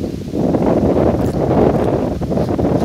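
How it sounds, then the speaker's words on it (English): Gusty wind at the port of Yabucoa, Puerto Rico, buffets the microphone in a loud, continuous rush with rustling noise, surging and easing over a few seconds. "Today is windy here in Yabucoa."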